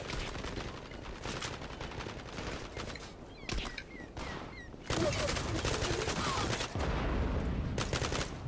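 Gunfire in the online shooter Zula crackles in rapid bursts and scattered single shots, dense and continuous at moderate loudness, with a voice talking over parts of it.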